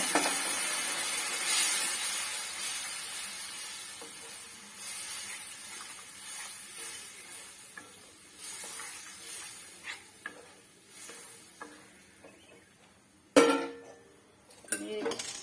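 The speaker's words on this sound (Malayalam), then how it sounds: "നമുക്കിതിനകത്തിന് കുറച്ച് വെള്ളം ഒഴിക്കാം. നമ്മൾ ചൂടുവെള്ളം ഒഴിച്ചത്." Hot water is poured into a hot pan of soybean masala, producing a loud hiss that slowly fades, followed by clinks and scrapes of a utensil against the pan.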